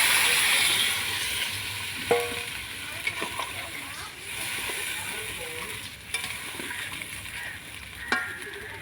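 Water poured into vegetables frying in a pan on a clay stove fired with wood in a Bengal village kitchen makes a bubbling, splattering hiss, with scattered clinks and a soft knock or two throughout.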